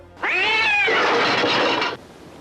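A cat in the 1971 film Willard lets out one loud, drawn-out meow that rises into a harsh, strained wail for nearly two seconds, close and alone.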